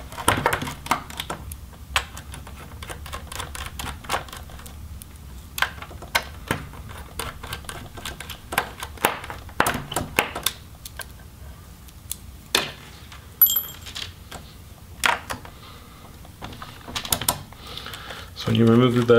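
Small hinge screws are backed out of an Alienware 14 laptop during disassembly, giving sparse, close, quiet clicks and ticks of a screwdriver and metal parts with short pauses between them, and no talking.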